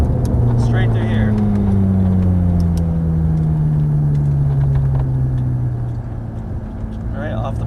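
A Ferrari F430 engine accelerates hard on a race track, its loud, steady drone sliding gradually downward in pitch as it pulls close by, with a voice talking over the engine.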